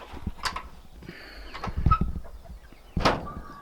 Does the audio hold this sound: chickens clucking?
yes